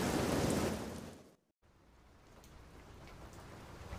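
Steady rain hisses, loud at first, then cuts out briefly before a quieter patter of rain resumes.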